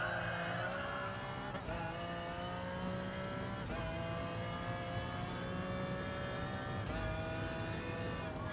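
Race car engine in GT Sport, a close, continuous high-revving whine with repeated sharp gear-change dips and rising pitch sweeps as the car accelerates, brakes and downshifts through corners, with no talk over it.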